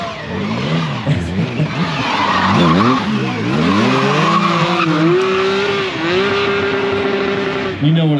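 A BMW motorcycle at a stunt show at the Barber Vintage Festival 2023 revs hard with rising and falling engine pitch and squealing tires, loud and close. An announcer talks over it.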